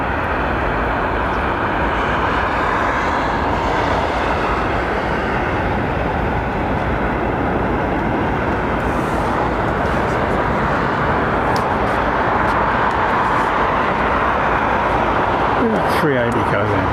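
An airliner's nitrogen-filled tyres roll down the runway at London Heathrow, making a loud, continuous low rumble with broadband roar that stays heavy throughout and swells slightly near the end.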